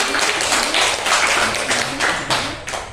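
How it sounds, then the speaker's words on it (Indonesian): Classroom pupils clap together for a classmate, a short round of hands with audible individual claps in a loose rhythm, close and fairly loud. "Semuanya tepuk tangan dulu untuk Ilmi."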